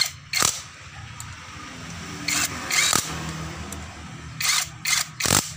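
A cordless battery impact driver from J-LD tightens a bolt in several short, loud, close bursts of rattling whir separated by quieter pauses.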